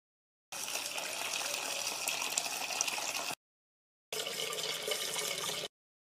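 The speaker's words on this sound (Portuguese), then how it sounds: "vai colocar até metade de água" Water gushes steadily into a pot being half-filled for cooking vegetables, a loud continuous pour that stops briefly and then resumes for a second stretch, with no talking.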